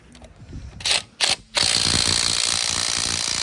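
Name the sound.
ratchet wrench loosening wheel lug nuts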